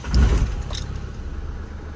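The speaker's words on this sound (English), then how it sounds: "I'll try and demonstrate by turning the vehicle on" Keys jangle briefly close by as a Vauxhall Movano van with an exhaust pressure fault is started. A low engine rumble then settles into a steady idle, with no talking.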